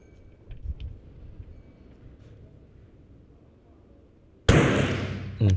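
A single loud carbine rifle shot fired while zeroing a scope at an outdoor range cracks sharply after several seconds of quiet background, with a short decaying echo trailing off.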